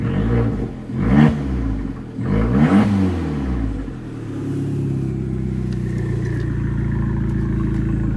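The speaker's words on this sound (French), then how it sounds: "il y a une descente de turbo qui siffle à chaque fin d'accélération" A turbocharged car engine revs hard in two loud bursts, each falling away as the throttle closes, then settles into a steady drone with a faint high whistle from the turbo.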